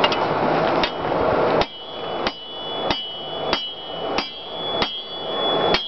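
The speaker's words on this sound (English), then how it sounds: "Now he's going to take it to the anvil." Hammer striking orange-hot sword steel on an anvil while drawing out the tang, loud ringing blows at a steady, evenly spaced rhythm, close by.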